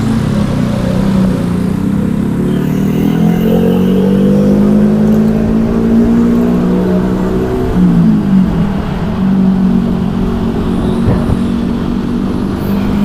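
A motorcycle rides through Jakarta traffic at about 40 to 50 km/h, its engine droning loudly and continuously with gentle rises and falls in pitch, wind and road noise mixed in, and no voices.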